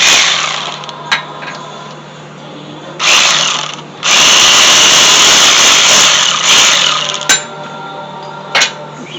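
A power tool with a socket backs bolts off a 2015 Honda CR-V engine during an AC compressor job, giving loud close bursts of whirring, one long burst after two shorter ones, with brief clicks between.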